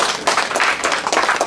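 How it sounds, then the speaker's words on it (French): An audience at a single launch showcase applauds the lab director with a dense, continuous wash of many hands clapping, loud and steady throughout without any speech. "M. Romuald, que je vous demande d'applaudir."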